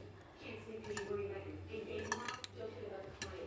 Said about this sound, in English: Now the recipe says to whisk frequently, which is what I'm doing.